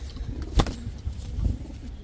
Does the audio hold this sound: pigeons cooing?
yes